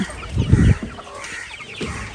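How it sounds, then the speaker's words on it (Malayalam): Low clucking from a few native village chickens of various sizes comes in short bursts at moderate distance, with background noise and no clear voices. "വലിയതുണ്ട്, ചെറുതുണ്ട്, പല സൈസ് ഉണ്ട്"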